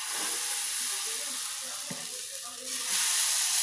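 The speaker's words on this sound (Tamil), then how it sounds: "மம்மி சீக்கிரம் தோசை ஊற்றுங்க மம்மி" Dosa batter hisses and sizzles on a hot pan in a home kitchen, a bright steady frying hiss that rises a little louder near the end, with faint clinks and movement beneath it.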